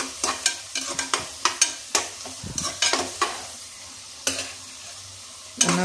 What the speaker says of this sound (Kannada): ಚೆನ್ನಾಗಿ ಫ್ರೈ ಆಗಲಿ.